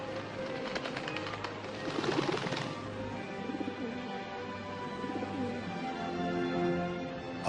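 A dove coos in a scene of the Holy Spirit descending on Jesus, soft repeated low calls layered over a quiet ambient score that swells briefly in the middle.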